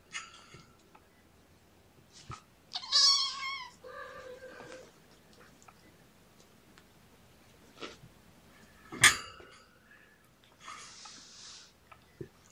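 Kittens meow in short, high, separate calls while playing, with light taps and rustles between them and no talking.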